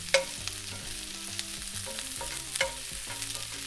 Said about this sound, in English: I'm gonna start sauteing these onions down just to get them nice and caramelized